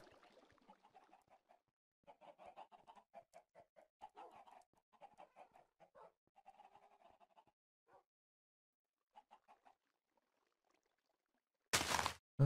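Minecraft chickens cluck in soft, repeated bursts over several seconds, fairly faint and with no talking, before a short loud noise at the end.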